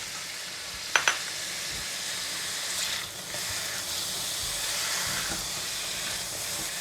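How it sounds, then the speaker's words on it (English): Pork belly with salt, pepper and shallots is stir-fried in a hot pan, giving a continuous loud sizzle and hiss with a couple of metallic clinks and shuffling stirs. "we want to stir fry the pork belly until all of it has changed the color to slightly white color."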